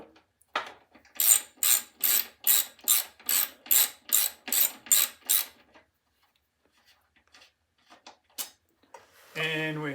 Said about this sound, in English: we have to take out the upper corner bolt in the fender